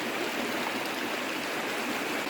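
A creek runs along a gold-panning spot, its water flowing in a steady, even rush that sits fairly close and moderately loud, with no voices over it.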